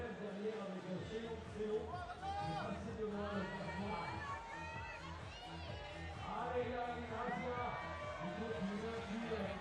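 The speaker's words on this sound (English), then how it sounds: "We can hear the crowd cheering on." Spectators at a lead climbing semi-final in Chamonix cheer and chatter as a dense, continuous crowd, with shouts rising and falling under a steady murmur and voices heard throughout.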